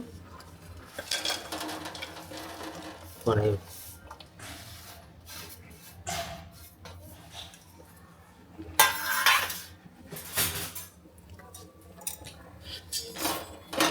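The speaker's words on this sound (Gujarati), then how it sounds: "હવે આપણે તેમાં ગોળ ઉમેરી દઈશું" Grated jaggery is stirred into ghee in a pan for puffed rice chikki, giving repeated metal spoon scrapes and clinks against the cookware, with a few louder bursts of clatter and no talking.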